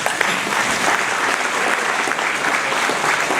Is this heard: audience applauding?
yes